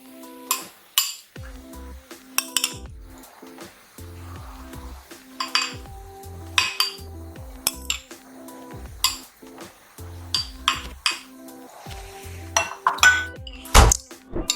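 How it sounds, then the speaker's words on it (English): A spoon clinks against a yogurt parfait glass as chopped strawberries go in: a run of sharp, close taps and scrapes in an uneven rhythm, with a low tonal hum underneath. "And I'm going to add my chopped strawberries next."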